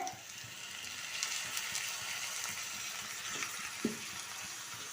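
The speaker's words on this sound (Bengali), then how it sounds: "তাহলে ভালো করে একটু চিকেনটাও ভেজে নেবো আলুর সাথেই" Chicken frying in a pan together with potatoes and onions gives a steady, fairly quiet sizzle with a faint crackle, plus a few scrapes and stirs near the end and no talking.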